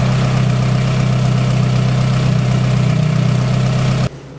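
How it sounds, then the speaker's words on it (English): Car engine idling at a standstill while checking for an oil leak, a loud, steady low rumble with constant vibration close by that cuts off just before the end. "let your engine idle for a while"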